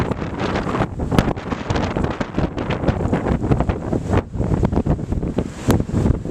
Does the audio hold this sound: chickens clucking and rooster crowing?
no